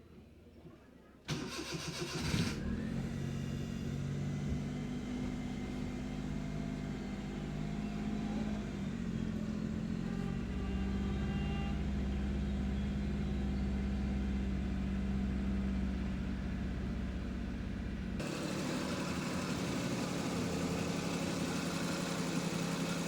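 A car engine cranks and catches, then settles into a steady mid-pitched idle that runs loud and close for most of the stretch, with a shift in tone near the end.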